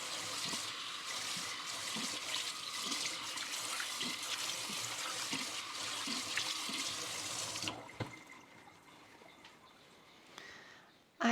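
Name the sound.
plant roots being rinsed under a sink tap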